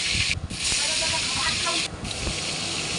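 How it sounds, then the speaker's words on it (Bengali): Rohu fish pieces rubbed with salt and turmeric sizzle in hot oil in a wok, giving a loud, steady hiss with short dips and faint crackles. "মাছগুলো ভালোভাবে ভাজা করে নেবো।"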